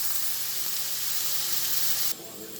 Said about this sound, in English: we're going to let these saute till they're nice and golden